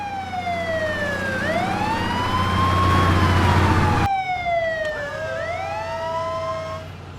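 Fire engine siren wailing loud and close in a residential housing society emergency, its rising and falling tone sweeping through two long cycles with a brief cut midway, no voices over it.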